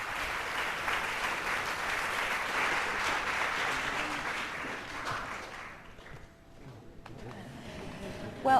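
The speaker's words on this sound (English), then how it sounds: "Warm applause from the audience and from our panel of judges too." Warm audience applause after a percussion performance in the 2002 BBC Young Musician final at the Guildhall School of Music and Drama in London. The clapping is steady and full, then fades away, with a voice speaking over it.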